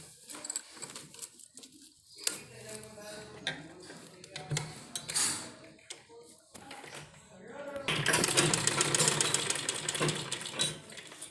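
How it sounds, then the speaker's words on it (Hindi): A sewing machine stitches fabric for a design on a garment sleeve, with short stops and starts under a person talking, then a longer steady run of stitching near the end. "इसके ऊपर हम 3-4 सिलाई अच्छी तरह पक्की कर देंगे"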